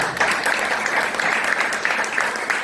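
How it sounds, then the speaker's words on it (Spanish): Congregation applause during a Sunday church service: a strong, continuous burst of many hands clapping together, close and fairly loud, with slight pulses in intensity and no speech over it. "Un aplauso al Señor."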